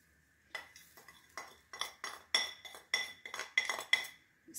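A metal spoon mixes tandoori masala, garlic-ginger paste and fresh coriander in a bowl, with about a dozen clinking scrapes in a steady, uneven rhythm, close and fairly quiet.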